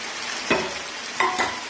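Onions fry with boiled sene and mung beans in a pan, a steady sizzle broken by a few short stirring scrapes close by; nobody speaks.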